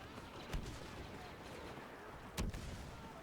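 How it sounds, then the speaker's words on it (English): Grenade blast in the Star Wars Battlefront video game on the Jakku map, a sharp booming burst near the middle of the clip with a second, heavier explosion later over steady battlefield noise. "That was probably the sound of my grenade going off and killing no one."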